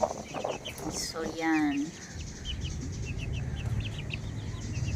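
Small pet chicks peep in quick, high, repeated chirps close by, first under a brief stretch of talk and then continuing alone with a low rustling underneath.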